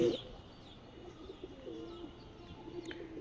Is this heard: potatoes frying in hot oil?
no